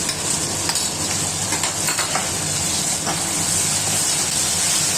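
Sauces stir-fry with onion and capsicum for chilli chicken, a loud close hissing sizzle with scraping stirs and a few sharp clicks, constant throughout with no voices.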